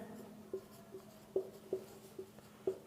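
A sentence handwritten with a pen for an English grammar tense lesson: faint, soft scratching broken by half a dozen light, evenly spaced taps as strokes land on the paper, with no voices.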